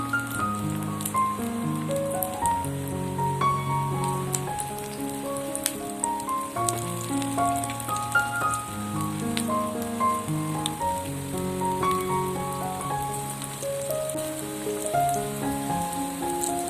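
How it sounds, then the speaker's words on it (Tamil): Mutton kheema balls deep-frying in oil over medium heat, giving a steady close crackle and sizzle that sounds like rain on a surface throughout, with no talking. "நான் மிதமான சூட்டில் தான் இப்போ வந்து பொரிச்சு எடுக்கிறேன்"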